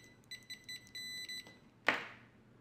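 An ISO-TECH IDM 63N multimeter's continuity beeper chirps in several short, uneven pulses, close and clear, then a sharp clack of the probes ends the sequence.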